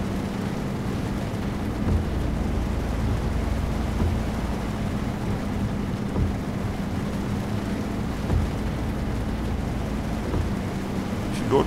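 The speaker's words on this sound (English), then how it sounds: "Driving in heavy rain can be quite demanding." Heavy rain in the truck-driving game Euro Truck Simulator 2 drums down in a steady, dense wash, with a low engine-like hum running underneath throughout and no talk.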